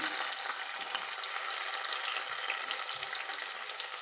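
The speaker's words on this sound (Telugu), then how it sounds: "ఇవి కొంచెం ఎర్రగానే వేగాలండి, మరీ ఎర్రగా కాదు, కొంచెం గోల్డెన్ కలర్లోకి రావాలి." Sliced onions and green chillies frying in a pan, a dense continuous sizzle with faint occasional stirring scrapes; close, steady and without talking.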